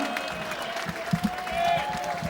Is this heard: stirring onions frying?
no